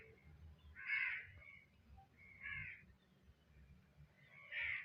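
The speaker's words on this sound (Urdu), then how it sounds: "شاید آپ بیک گراؤنڈ میں بھی آواز سن رہے ہوں گے کوے کی۔" Crows caw from some distance in the background, three hoarse bursts spaced about every two seconds over a low rumble, with no talking.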